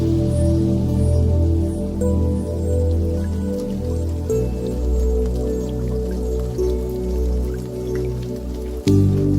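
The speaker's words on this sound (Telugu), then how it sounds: "ఏమిటో ఈ వర్షం, మ్యాచ్ ప్రాక్టీస్ చేసుకోవడానికి లేకుండా" Rain falls steadily on a cricket practice ground in a film scene, a dense patter of drops and drips with no voices.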